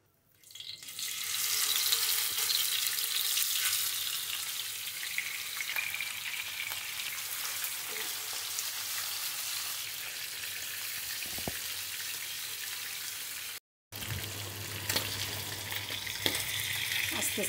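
A piece of catla fish, salted and rubbed with turmeric, fries in hot oil in a pan with a loud steady sizzle, broken once by a brief silence before the sizzling resumes and continues.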